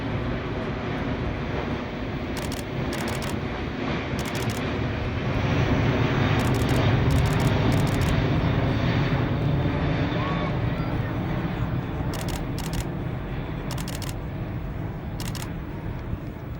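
An Airbus A380 airliner makes a slow, low pass at an air show, its engines a loud, steady broadband roar that swells slightly midway, with camera shutters clicking in bursts throughout.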